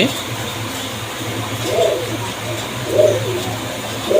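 Soft pigeon coos rise a few times over a steady background hum, low and close, with a murmuring voice nearby, as a baby pigeon is handled.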